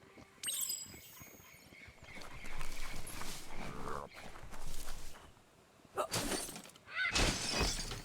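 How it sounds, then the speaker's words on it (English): A box is smashed in the Biomutant action video game, giving sharp breaking and shattering bursts with scattered debris clatter, several loud crashes spread over eight seconds alongside other game effects. "You shouldn't worry about smashing up the box."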